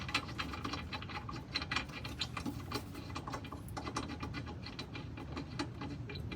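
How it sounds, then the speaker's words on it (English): Bolts coming off the rear sway bar of a Honda Civic EJ8, a steady run of metallic ratcheting and clicking from hand tools working close up, with no talk. "So we're gonna have to remove this bolt here and that bolt here to get that going."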